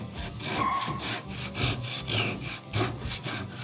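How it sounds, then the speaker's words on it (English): A Japanese hand saw cutting through wood in a woodworking shop, close and rhythmic, with about seven raspy back-and-forth strokes at a steady even pace. "Just let the saw do the work."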